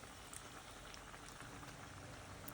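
Nimki dough frying in hot oil, a continuous fine bubbling sizzle heard up close at a steady level.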